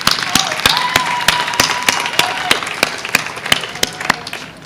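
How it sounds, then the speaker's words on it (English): School-district audience clapping for teachers honored at a Teacher of the Year ceremony, a loose scattering of distinct, sharp claps from a modest crowd in a hall, uneven and thinning toward the end. "Please give them all a round of applause."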